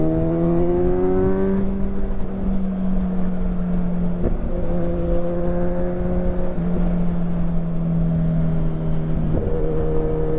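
A Kawasaki Ninja 1000SX with a Black Widow exhaust is ridden on the road, its engine droning loud and close, rising in pitch and then dropping at each gear change, with wind rushing underneath.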